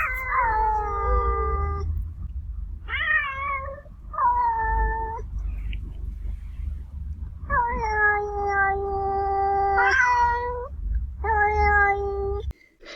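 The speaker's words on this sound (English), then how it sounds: "who combine shorter and longer howling in this nice duet" Two cats, a resident and an intruder, trade drawn-out yowls in a duet, some short and clipped, others long and wavering, loud and close with brief pauses between calls.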